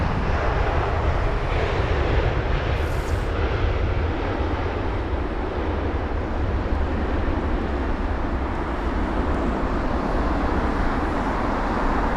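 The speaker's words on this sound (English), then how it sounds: "Doing an amazing job with the landing." An Air Canada Boeing 777-300ER lands at London Heathrow on a windy day after a flight from Toronto, its engines a loud, steady broadband roar from start to finish.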